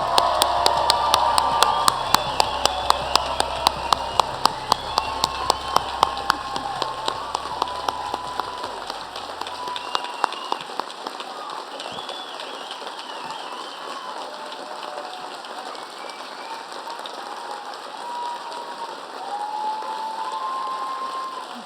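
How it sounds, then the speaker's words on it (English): A convocation audience applauds for an extended stretch, the clapping loud and dense at first, then settling into a steady wash of applause. "Let's clap for them again."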